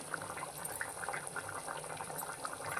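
Gurije fish curry simmering in a pot, a quiet, steady bubbling with soft pops and gurgles scattered throughout, close by and without voices.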